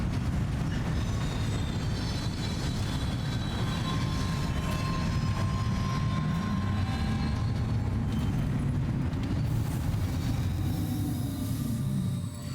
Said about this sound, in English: how is Sam not scared when the monorail sort of, like, twists and turns?